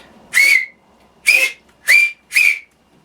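Four short, sharp lip whistles of similar pitch, evenly spaced and loud, used to command a robot, with only a stray spoken word between them.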